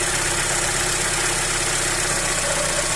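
A car engine with a Solex carburetor idles steadily, a dense continuous hum with a faint rise in pitch toward the end as the mixture is turned richer, no voices.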